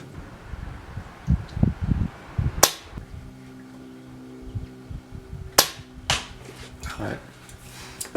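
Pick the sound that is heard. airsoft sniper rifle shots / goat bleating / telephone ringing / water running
airsoft sniper rifle shots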